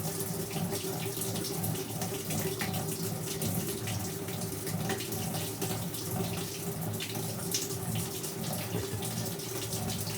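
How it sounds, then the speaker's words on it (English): Steady rushing water sloshes continuously in a spinning Whirlpool WTW5000DW washing machine drum, with a low mechanical hum beneath it, a constant wash of sound that never pauses. "you can kind of hear the water going, so it's still spinning"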